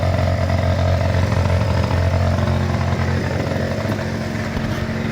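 Yamaha Jog moped's small two-stroke engine idling after a hand start, a steady buzzing putter close by, loud and continuous with slight fluctuations, no talk.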